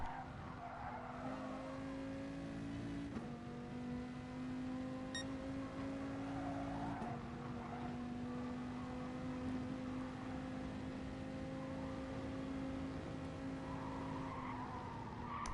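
A race car's engine in Gran Turismo Sport holds a loud steady note through a corner, pitch stepping up and down with gear changes. Tyre squeal and a rival car sound behind it.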